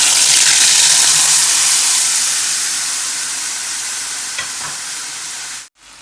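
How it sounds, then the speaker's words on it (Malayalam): Ground avarekka masala boiling in oil in a cheenachatti pan gives a loud, close, hissing sizzle that slowly fades, with a couple of soft knocks near the end before it cuts off abruptly. "ചീഞ്ചട്ടിയിൽ എണ്ണ ഒഴിച്ചിട്ട് ഈ മസാല ഒഴിച്ചിട്ടുണ്ട്. ഇത് തിളയ്ക്കണു."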